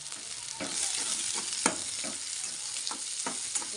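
Onion, garlic and green chili frying in hot oil in a pan, a steady sizzle with a few brief stirring clatters and a louder utensil knock near the middle.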